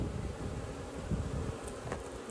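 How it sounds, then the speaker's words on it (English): Honeybees fly in and out of a hive in a faint, continuous buzzing drone, with a few nearer passes rising briefly above the hum. "There's bees going in and out."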